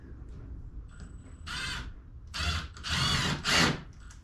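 Power drill driving screws into a kayak while fitting an anchor trolley system, several loud whirring bursts in quick succession, close by, with no talking.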